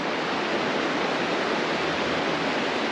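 A river rushes past the arches of the Molina Seca bridge on the Camino de Santiago, partly diverted with sandbags, a loud, steady broadband roar of flowing water with no breaks.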